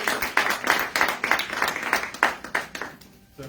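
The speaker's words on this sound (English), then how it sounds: "let's give them a round of applause" At an Indigenous GED graduation ceremony, a small group claps for the graduates with distinct, uneven individual hand claps that thin out and fade near the end.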